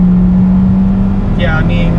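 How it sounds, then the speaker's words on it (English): A Hyundai Venue with a 120-horsepower engine drones steadily from inside the cabin under full throttle, a constant low engine hum, while a person speaks briefly near the end. "I'm gonna floor it and see."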